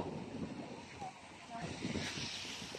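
Steady broadband wind rushing and buffeting against the microphone at a mountain peak in Armenia, continuous and fairly loud throughout.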